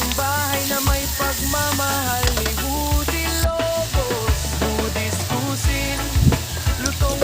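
Sliced chicken breast sizzles in a pan while being stirred, with scraping and clinking strokes repeating throughout over a bed of background music.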